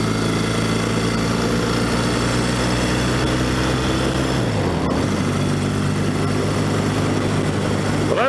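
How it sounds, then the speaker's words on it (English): A 1964 Royal Enfield Interceptor Mk1 motorcycle engine while riding: a loud, steady, throbbing drone whose pitch drops midway as the bike slows or shifts, with constant rushing noise. "this vintage Royal Enfield Interceptor"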